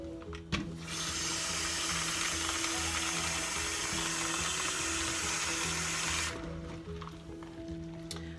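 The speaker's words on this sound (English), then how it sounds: "now I put water on them and rinse them really" Tap water runs steadily over pinto beans in a kitchen for about six seconds, a broad rushing hiss with faint clatter at start and end.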